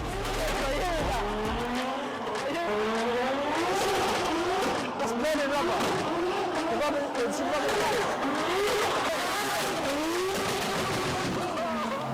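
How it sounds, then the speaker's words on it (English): Rally cars doing donuts and skidding around a track in front of a golden mosque in Northern Cyprus, engines revving hard with continuous sweeping tire squeals, loud and close throughout. "There was cars doing donuts and skids around the track in front of this beautiful golden mosque."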